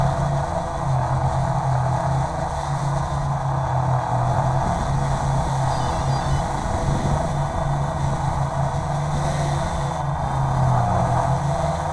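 Kaiser Baas Delta quadcopter drone in flight outdoors, a steady, continuous motor buzz with an even pitch throughout and no talking.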